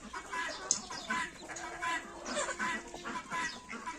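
A young turkey calls in a short series of chirps and clucks among other farmyard fowl, fairly close and moderately loud over a constant low background noise.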